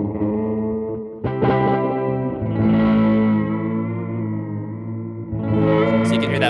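Guitar played through a Fender delay pedal with modulation, sustained chords ringing with repeating echoes and a warbling, chorus-like wobble, loud and continuous with a fresh strum near the start and another toward the end.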